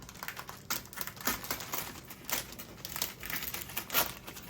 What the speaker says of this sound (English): Now to do the little bit of nerve-wracking part. And peel this away.